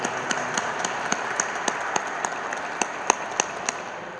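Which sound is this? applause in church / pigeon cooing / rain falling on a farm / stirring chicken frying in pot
applause in church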